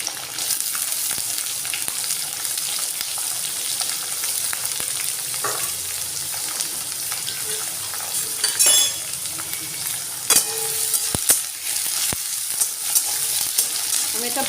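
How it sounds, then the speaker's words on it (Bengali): Curry leaves and carrots fry in a pan for masala dosa, a steady sizzle broken by scraping stirs and a few sharp metallic clinks. "আমি এটা ভালো করে ভেজে নেব।"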